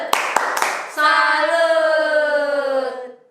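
Children clap a few sharp rhythmic claps of the Tepuk salut chant at a church children's gathering, then a sustained sung or chanted tone follows and fades.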